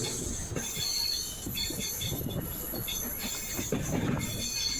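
The Gandhidham–Kamakhya Express rolling steadily along a curved track, continuous rumble and a high metallic wheel squeal running throughout, fairly close.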